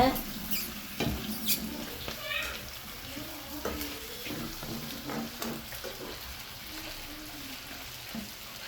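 Ginger and garlic sauté in a pan for squid curry, heard as soft, intermittent scraping clicks and light sizzling beneath a person talking.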